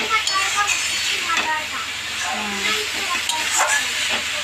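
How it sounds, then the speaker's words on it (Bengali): Minced meat sizzling in a pan while being sautéed for a tadka, a steady hiss of frying with occasional clinks as it is stirred, a voice talking over it. "দেখতে পাচ্ছ কিমাটা এখন কষা হচ্ছে।"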